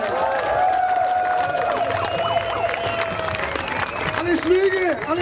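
Crowd at a cannabis legalisation rally, the Hanfparade in Germany, applauding and cheering for a movement founder, with sustained clapping, whistles and shouts mixed under voices.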